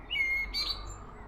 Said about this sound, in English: it's a blackbird.